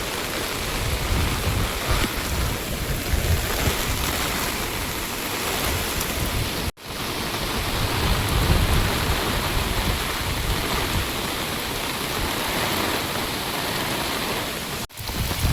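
River floodwater pours out across a village road in heavy rain, a loud continuous rushing wash that briefly cuts out twice, with no talking.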